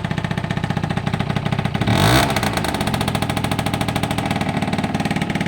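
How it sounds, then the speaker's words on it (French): Two-stroke engine of an MBK Booster scooter puttering at a steady idle, then one sharp blip of the throttle that rises and quickly settles back to the same even idle, close and loud. "J'accélère, je relâche, il redescend nickel."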